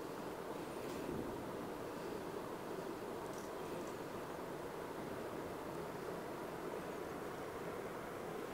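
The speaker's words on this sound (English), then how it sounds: "there's a little waterfall," A small waterfall at Lamanche Provincial Park gives off a faint, steady hiss of falling water, distant and even, with no voices.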